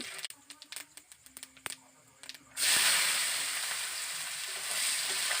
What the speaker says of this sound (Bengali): পেঁয়াজটাকে আমি ভালো করে প্রথমে ভেজে নেব